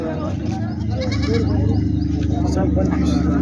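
Goats bleat at a busy livestock market in Hingoli, their calls rising through constant nearby chatter and crowd noise.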